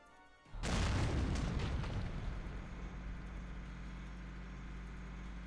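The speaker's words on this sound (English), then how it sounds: "Damn tank's busted right through the stinking wall!" A tank smashes through a wall in Valkyria Chronicles: a sudden heavy crash and boom after a quiet start, followed by a sustained low rumbling engine drone that fades slightly but keeps going.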